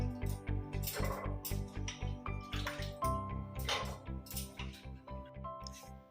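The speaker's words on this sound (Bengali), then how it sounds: "আমি কিন্তু এই ভিজানো জলটা রাখি না, ফেলে দিই।" Soaking water from chickpeas being poured away, a soft trickle and splashing of water in quick pulses, faint and close, over a low steady background hum.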